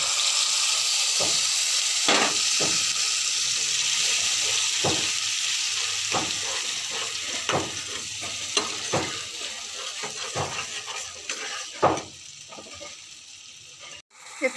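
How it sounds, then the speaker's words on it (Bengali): Spice paste of ground ginger, cumin and poppy seed with turmeric and chilli frying in a pan, a steady close sizzle with repeated scrapes and clicks as it is stirred, no voices. "দেখো আমার মশলাটা বেশ ফুটছে, বেশ সুন্দর মশলাটা ভাজা হচ্ছে আমার"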